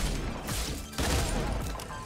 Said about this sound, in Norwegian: Det var to skudde.